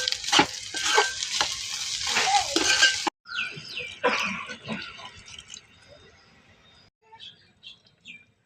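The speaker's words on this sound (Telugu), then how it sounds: "కారం కొద్దిగా ఉప్పు వేసి బాగా మిక్స్ చేసుకుందాం" Chili powder and salt being stirred into food in a cooking pan, with scraping, sizzling stir strokes up close, fading to quieter intermittent clinks.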